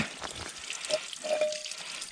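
Mountain spring water running steadily from a small trailside source, a close, continuous splashing trickle without voices.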